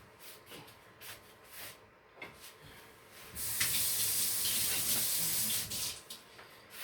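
Tap water runs into a sink for about two seconds while food is rinsed during cabbage roll preparation, loud and close, after a stretch of quiet kitchen shuffling.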